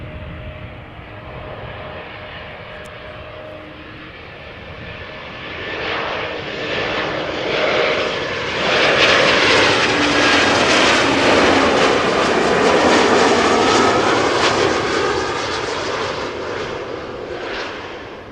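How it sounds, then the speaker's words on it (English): An Embraer 190 jet arriving from London City flies in over Amsterdam Schiphol, its engine roar building from a distant rumble to a loud, broad overhead whine and rush that holds for several seconds. "Embraer 190 arriving from London City."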